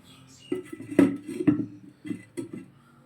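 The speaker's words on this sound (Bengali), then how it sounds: "এবার ঢাকাটা দিয়ে দেবো।" A metal lid set onto a cooking pot while preparing Champaran mutton, with a series of clanking metal knocks and scrapes, loud and close, recurring in short bursts over a few seconds.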